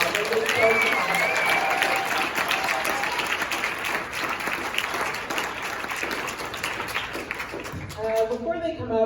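An evening audience applauds composers and filmmakers in a steady, crowded round of clapping with cheers, while a voice talks faintly underneath and speech becomes clearer near the end.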